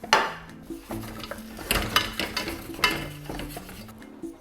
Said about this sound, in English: we grab our pot and we place everything in to cook it in the stove